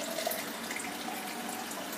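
Water poured into a pan around a coconut flan in a home kitchen, a steady broadband splashing stream running evenly and fairly loud for the whole stretch, with no talk.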